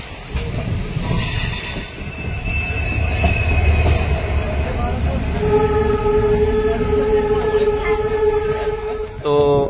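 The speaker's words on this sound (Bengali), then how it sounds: "হাওড়া থেকে আমাদের ট্রেন ছাড়ার পর আমরা এখন দিল্লির উদ্দেশ্যে রওনা দিলাম" Train running out of Howrah bound for Delhi, loud rumble of wheels on rails with long, high metallic squeals rising and holding over the roar, heard from close by.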